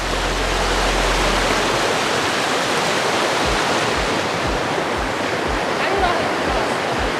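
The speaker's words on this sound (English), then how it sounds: "And backed up by all these rapids here." Rapids on a wilderness river rushing over rocks and boulders, a dense, constant roar of white water, loud and close, with faint low thumps underneath.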